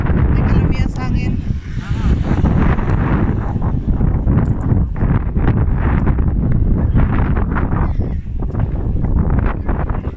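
Strong wind outdoors at a cafe in Pamplona, Negros Oriental, buffets the microphone with constant roaring rumble throughout, steady and close.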